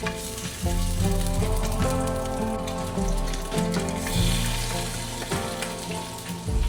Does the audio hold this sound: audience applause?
no